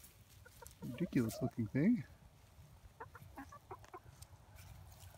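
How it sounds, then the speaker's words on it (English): A rooster clucks in a short, loud burst of rising calls, followed by softer sputtering clucks; a person speaks briefly nearby. "The rooster's over here."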